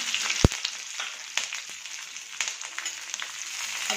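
Green chillies and garlic frying over low heat in a pan, a steady soft sizzle with a few sharp crackles and pops standing out near the start.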